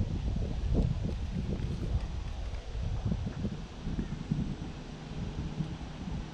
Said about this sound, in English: it is getting very windy